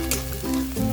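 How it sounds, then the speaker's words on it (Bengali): Chili and turmeric powder sauté in hot oil in a pan, a brief, steady close-up sizzle with faint stirring scrapes. "লঙ্কা গুঁড়ো এবং হলুদ গুঁড়ো দেওয়ার পর আবারও কষিয়ে নিচ্ছি"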